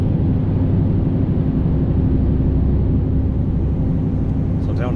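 A Scania truck pulling away under load in tenth gear, giving a deep, steady engine drone with a dense low rumble that holds constant and close throughout.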